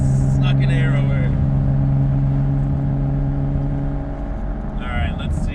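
Nissan Skyline turbo engine runs loud and close with a steady droning rumble and a faint airy whine from the turbo, while people talk over it.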